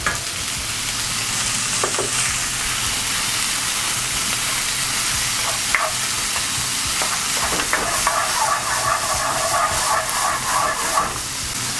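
Sliced peppers and onions sautéing in a hot pan, a loud continuous sizzle and crackle close up with occasional stirring scrapes, steady throughout with no talking.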